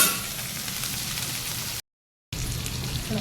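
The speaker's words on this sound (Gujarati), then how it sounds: "શાક તો ચડી રહ્યું." Vegetable curry (shaak) sizzles and simmers in a pan with a steady, close frying hiss, cut by a brief full silence partway through before the sizzling resumes.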